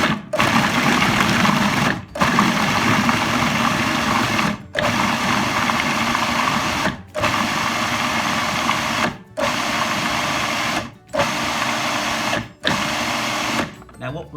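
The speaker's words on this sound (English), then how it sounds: "Hey Clive, over to the food processor. Pop your lid on" A food processor whizzing lentils toward a mush, loud motor whine in repeated bursts of about two seconds separated by short pauses, close and alone.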